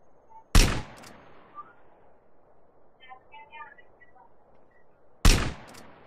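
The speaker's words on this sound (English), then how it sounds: "I love making these headshots because you know it is more like shoot and out, shoot and out." Two sharp, loud gunshots ring out several seconds apart in a GTA DYOM mission, with faint game sounds and chirpy beeps between them and no talking.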